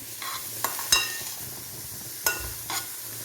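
Onions sauté with salt in a pan for Kerala-style egg roast, a soft steady sizzle broken by a few sharp, close spatula scrapes against the metal.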